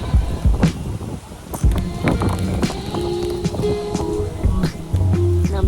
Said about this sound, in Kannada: ಕೆಟ್ಟ ಥಂಡಿ ಆಗ್ತೈತಿ, ಗಾಳಿ ಮಳಿ ಎಲ್ಲ ಸ್ಟಾರ್ಟ್ ಆಯ್ತು.